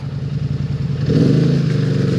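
A Polaris Sportsman High Lifter ATV engine revs hard in mud and rises in pitch partway through, a loud, strained roar with rattling underneath.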